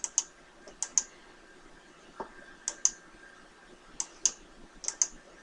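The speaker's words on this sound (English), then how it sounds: "all I'm doing is clicking and dragging" Faint, crisp computer mouse clicks come in quick pairs and small clusters while dragging in AutoCAD, spaced irregularly against a quiet room background.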